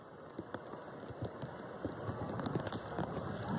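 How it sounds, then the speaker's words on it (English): Steady rain falls during a Houston Astros versus Washington Nationals spring training baseball game in Florida, a soft continuous hiss with scattered drop ticks, fairly quiet and with no talk over it. "And through the raindrops,"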